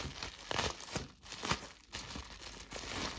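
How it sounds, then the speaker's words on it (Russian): A plastic package is crinkled and torn open close up, with bursts of crackling rustle in uneven handfuls, fairly quiet and with no talk. "где же открывается этот пакет?"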